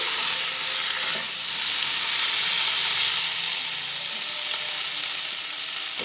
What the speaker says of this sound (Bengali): এর মধ্যে যে আলুটা সেদ্ধ করে রেখেছিলাম সে আলুটা ঢেলে দিলাম আবার ভালোভাবে নাড়াচাড়া করে নিচ্ছি